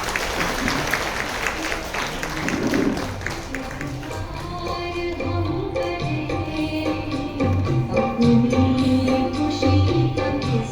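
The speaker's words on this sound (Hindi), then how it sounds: "वैशाली बहन और उनकी पूरी टीम के लिए एक बार जोरदार तालियां हो जाए।" Applause from an audience at a spiritual gathering in Surat, mixed with music and a steady crowd clatter that runs throughout, loud and fairly near.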